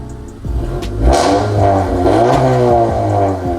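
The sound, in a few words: Honda Civic FK7 Valvetronic exhaust revving in racing mode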